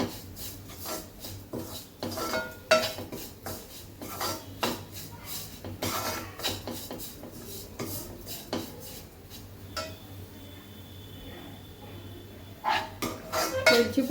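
Coconut laddu mixture being mixed with cardamom powder in a pan, a spoon rubbing and scraping against the metal in repeated close strokes with occasional knocks.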